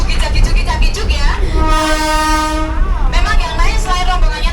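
A train at the Ambarawa railway museum rumbles past loudly and sounds a long, steady horn blast midway, with wheel and engine noise continuing around it.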